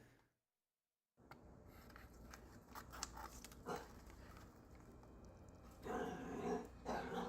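Dogs in a played video growling and reacting amid scuffling and background noise after a brief silence, with louder bursts of activity toward the end, moderately faint.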